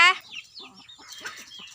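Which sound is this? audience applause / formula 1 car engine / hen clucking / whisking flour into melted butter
hen clucking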